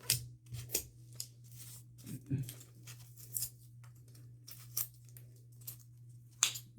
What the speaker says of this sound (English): I'm using the scissors more to just like grab a hold of an edge and tear it off.